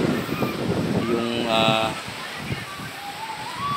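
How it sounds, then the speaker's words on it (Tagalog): Strong wind off the sea buffets the microphone on a Bataan beach in the late afternoon, a constant rushing roar, with voices and a brief tonal sound partly buried beneath it. "malamig na dito sa dagat kasi po, hangin nanggagaling sa karagatan, napakalakas po"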